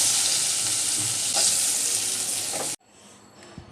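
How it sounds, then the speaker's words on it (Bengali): Loitta (Bombay duck) fish frying in a pan gives a loud, dense oily sizzle that runs steadily for nearly three seconds, then cuts off abruptly to quiet low room noise. "এই তো হয়ে গেল আমার লইটা মাছ ভাজা"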